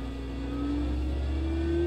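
An Iveco Cursor 11 engine revs up toward full RPM, a steady loud droning hum climbing gradually in pitch over a deep low rumble, continuous and close, with nobody speaking.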